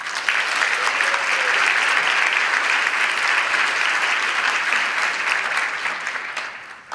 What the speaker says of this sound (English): Please give them all now a round of applause.